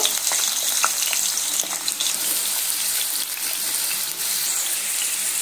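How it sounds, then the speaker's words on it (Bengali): Thinly sliced potatoes fry in hot oil with a loud, continuous hiss and crackle, broken by occasional light clicks from stirring. "এবার আমি আলুগুলো তেলের মধ্যে দিয়ে আলু যেভাবে ভাজে ঠিক সেইভাবে ভেজে নেব।"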